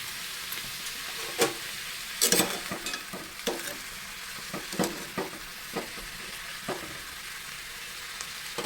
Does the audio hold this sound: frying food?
yes